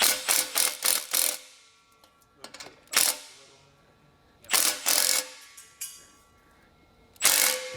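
A ratchet clicks in quick bursts as it tightens the clamp on an AWE Touring exhaust tip fitted to a BMW M340i, with several separate runs of sharp, close ratcheting and short pauses between them.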